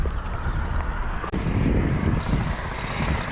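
Strong, rushing wind roars steadily across the microphone during a mountain bike ride through a valley near Salalah, Oman, in a loud, continuous buffeting with no talk.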